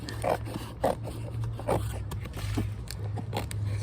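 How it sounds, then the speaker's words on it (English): Scissors work at a sealed orchid shipping package, giving quiet, repeated scraping and snipping sounds close by, irregular and soft, over a low hum. "I'm having a little bit of difficulty trying to get my scissors in here to actually cut it open."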